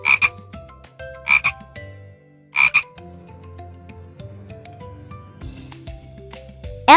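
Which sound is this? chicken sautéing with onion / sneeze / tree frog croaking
tree frog croaking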